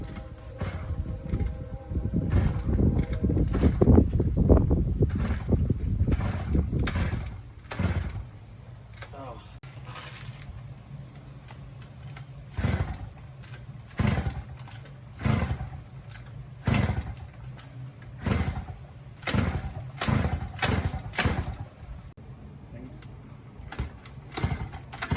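A PW motorbike is started with its exhaust refitted and oil and fuel added. A rough, low sputtering burst is followed by a series of sharp mechanical knocks and clanks, with people talking between them.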